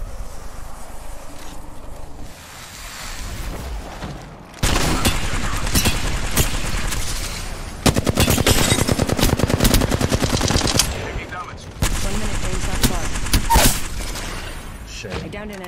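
Bursts of rapid automatic gunfire from an Apex Legends match, loud and close, come in sustained volleys separated by short pauses, with a player talking over parts of the action.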